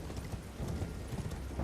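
Horse hooves clip-clopping at a steady gallop in Elden Ring, a continuous run of near, rhythmic thuds with faint game ambience and no talking.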